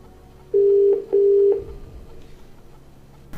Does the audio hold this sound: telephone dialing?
yes